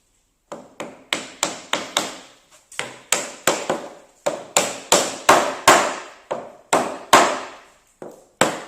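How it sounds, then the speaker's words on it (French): A hammer drives a press-fit part into place while building a tiny house: loud, close, sharp knocks, roughly eighteen strikes in uneven bursts with short pauses between them, and no voices. "maintenant, on doit l'enfoncer au marteau parce qu'il est à serrage"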